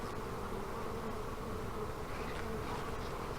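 A swarm of honey bees buzzing inside an old hive, a dense, continuous drone close by with no pauses, fairly soft overall.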